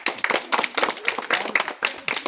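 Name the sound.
children clapping hands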